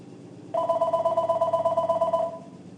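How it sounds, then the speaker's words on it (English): A telephone rings with a single pulsing electronic trill lasting under two seconds, fairly close and clear over a quiet room. "Ignore the phone ringing"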